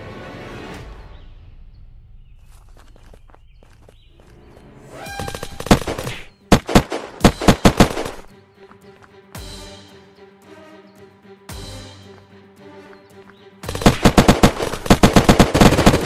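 Bursts of automatic gunfire and single shots in an Unturned arena PvP match, loud rapid volleys separated by quieter gaps of ambient game sound, with several intense clusters toward the end.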